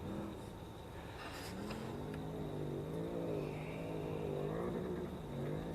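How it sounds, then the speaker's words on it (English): Off-road spec race truck engine bouncing off its rev limiter at a Baja Nevada qualifying run, a faint, steady buzzing drone held at high revs with slight wavering, heard from a distance. "On the rev limiter, you heard it there."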